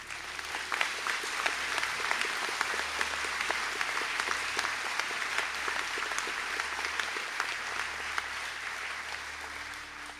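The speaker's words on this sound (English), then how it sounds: "stand for a round of applause." An audience applauds at a college conferring ceremony for business graduates, with steady, sustained clapping from many hands and sharp individual claps standing out, filling the hall evenly from start to finish.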